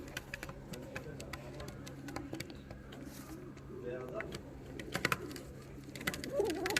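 Fancy and costume pigeons cooing softly in a loft, faint low coos under frequent sharp clicks and tapping, with someone talking nearby.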